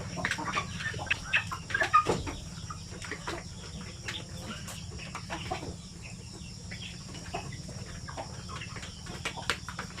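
Native chickens cluck and squawk in short bursts over a quiet farmyard background, with a few sharper calls standing out.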